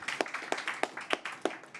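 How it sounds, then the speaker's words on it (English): Scattered audience clapping at a conference panel session, a thin round of individual claps with distinct separate hits rather than a dense roar, moderately faint in a large room. "After the panel, a round of applause."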